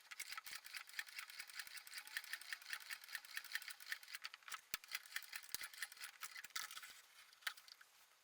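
A sewing machine runs steadily while stitching the sides of a cotton coin purse, its fast needle chatter continuing for several seconds with brief pauses and clicks, close and fairly quiet with no talking.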